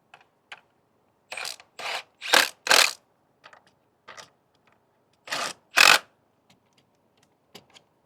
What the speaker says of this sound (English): Using a 9/16, you can use a wrench, a socket, whatever you prefer to use.